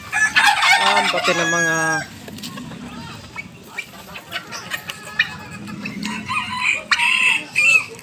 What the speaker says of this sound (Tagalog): Bilihan ng mga manok ko guys.